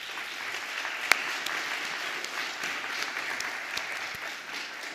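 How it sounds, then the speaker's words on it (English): A church congregation applauds steadily in the sanctuary, a dense patter of many hands clapping at moderate volume, with a few sharper claps standing out. "Let's give them an applause."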